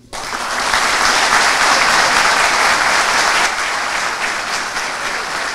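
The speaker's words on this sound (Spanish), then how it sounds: "de pie damos aplauso a estas poderosas intervenciones del doctor Ricardo Nieves y del licenciado Francisco Manzano" A conference audience at a university anniversary event rises in strong, sustained applause for the speakers, loud dense clapping that swells quickly and eases slightly toward the end.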